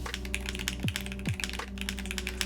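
Typing on the Reverie mechanical keyboard, fitted with Gateron cap switches, gives a steady run of close, crisp clacks and taps with a couple of deeper thocks from the spacebar, with nobody talking.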